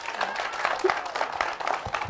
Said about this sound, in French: J'ai besoin d'un tonnerre d'applaudissements avant même qu'elle commence.